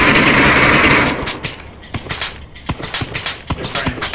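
Gunfire in the Onward virtual-reality shooter: a loud noisy burst at first, then a string of sharp, close shots cracking out in quick irregular bursts, with little talk.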